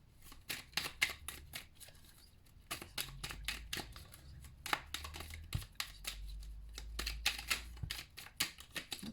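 Oracle cards are shuffled by hand in quick, crisp riffles and slaps, close and fairly quiet, with short pauses between bursts and no talk.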